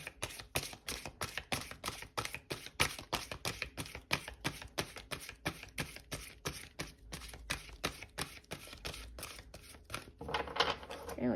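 A deck of oracle cards is shuffled by hand, a rapid series of crisp papery flicks and slaps at an even rhythm, close and quiet, ending with a brief rustle.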